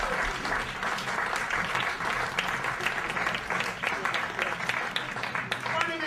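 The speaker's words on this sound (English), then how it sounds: "At least they applauded you." An audience claps after a comedy set, steady dense applause holding at an even level for several seconds with no voices rising above it.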